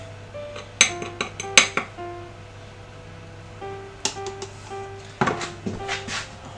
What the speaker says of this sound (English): I'm getting my penguin plate. And a spoon,